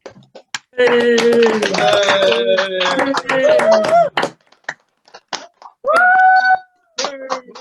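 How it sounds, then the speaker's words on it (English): Participants in an online talent-show meeting unmute and applaud together, with scattered claps mixed with cheering and whooping voices. The sound comes in uneven bursts with short gaps between them. "Let's unmute ourselves and a round of applause."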